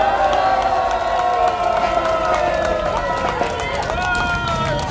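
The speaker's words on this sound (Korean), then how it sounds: "박수 한번 쳐주세요." Crowd at a Democratic Party political rally in Korea claps and cheers, a loud continuous wash of applause and voices with whoops, a sustained tone running through the noise.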